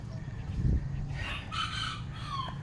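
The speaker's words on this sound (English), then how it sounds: "Look at that rooster." A rooster crows from a short distance over a low background rumble, one drawn-out call.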